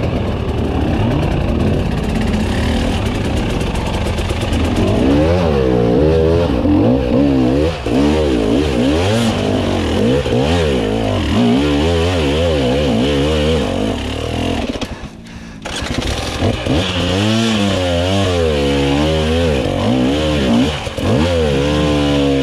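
Husqvarna TE300i enduro motorcycle engine on a wild enduro trail ride, loud and close, revving up and down continuously with rising and falling pitch sweeps and a brief drop near the middle.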